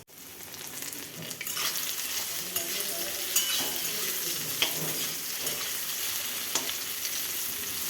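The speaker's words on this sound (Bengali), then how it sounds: "আর এই যে আমি এখন কিন্দুরিটা ভাজছি" Ivy gourd (kundri) frying in a pan in a home kitchen, a steady close sizzle with scattered stirring scrapes and clinks throughout, no talking.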